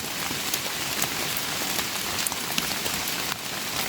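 Steady rain falls across a mountain forest in a dense, even hiss of drops on leaves and ground, moderately loud and continuous with no voices.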